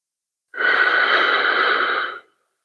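A single long, deep breath drawn close to the microphone during a guided breathing session: a steady, airy rush that lasts about a second and a half, then stops into silence.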